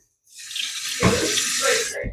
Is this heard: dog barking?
no